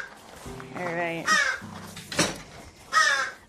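A crow caws several times, close and loud, the harsh calls spaced out and mixed with other squawking sounds indoors at an animal sanctuary.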